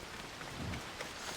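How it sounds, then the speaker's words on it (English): Steady rain falls in Assassin's Creed Odyssey, a soft continuous hiss of drops on surfaces with a low rumble swelling briefly, no voices over it. "And it's legit raining."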